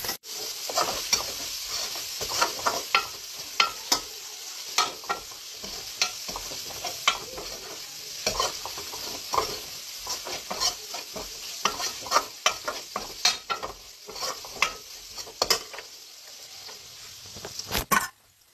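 Chicken flakes frying in a pan for homemade pasta, a continuous crackling sizzle broken by frequent scraping stirs and sharp spatula clicks, steady and close for the whole stretch, with no voices.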